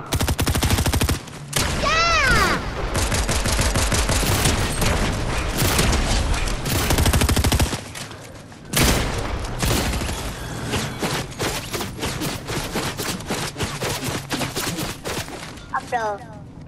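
Rapid gunfire in a battle royale video game, sustained loud bursts of automatic shots over several seconds with a brief pause, mixed with game sounds and voices talking over it.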